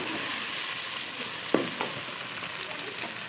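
Tomatoes fry in a pan for a brinjal curry, giving a steady, bright sizzle throughout with a couple of soft clinks from stirring partway through.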